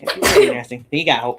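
A single sharp human sneeze bursts out among people chatting, with talk just before and after it.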